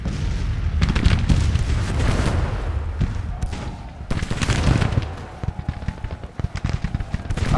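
Rifle gunfire, including Springfield rifles, in a Civil War battle video game rattles almost without pause as dense, overlapping volleys of sharp cracks and dull booms that stay loud and continuous throughout.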